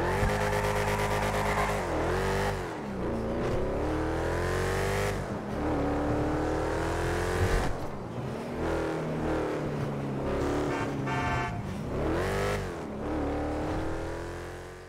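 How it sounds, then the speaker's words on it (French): Roaring engine of the casino prize car in GTA 5 Online, revving hard in repeated loud acceleration surges with gear shifts and brief skids, close and continuous with no talking. "Je vais vous mettre juste quelques images maintenant pour vous montrer le bruit du moteur."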